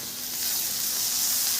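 Drained freekeh tipped into onions sautéing in ghee with salt and pepper in a pan, giving a short, steady, hissing sizzle close by with no talk.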